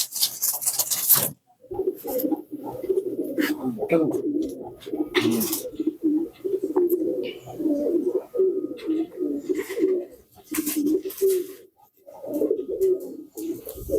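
Pigeons coo in repeated low throaty bursts close by, nearly continuous with brief pauses, joined by a few sharp clicks and scrapes, while people talk softly nearby.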